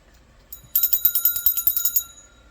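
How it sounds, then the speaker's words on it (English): A small hand bell rings alone in a quiet room for about a second and a half, a bright rapid jingle that starts sharply and then fades. "Let me ring the bell."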